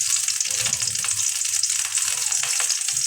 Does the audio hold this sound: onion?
yes